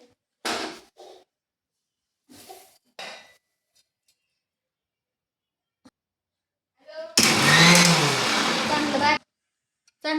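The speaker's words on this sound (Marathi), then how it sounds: "खसखस तिळी आणि खोबरं ते बारीक करून घेऊ" A mixer grinder whirs loudly grinding poppy seeds, sesame and coconut for about two seconds after short bursts of talk, then stops.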